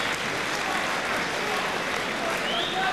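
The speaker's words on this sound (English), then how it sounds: "Ripple of applause from the big crowd here at Fort Knox" Big crowd at a Fort Knox boxing bout lets out steady, dense applause that fills the whole stretch, a continuous wash of clapping with a murmur of voices mixed in.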